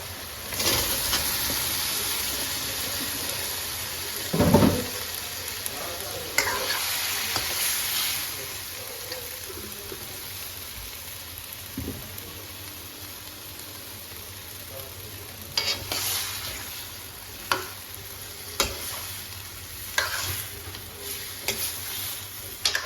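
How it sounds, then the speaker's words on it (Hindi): Cauliflower and potato pieces tossed into a hot pan for aloo gobi, giving a low continuous sizzle with sharp clatters and scraping stirs at irregular moments, loudest near the start and toward the end. "अब मैं इसमें डालूँगी गोभी आलू।"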